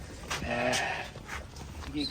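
Purebred chestnut Gissar sheep, young rams, bleat over steady background talk, with a few brief nasal calls rising and fading close by at a livestock sale.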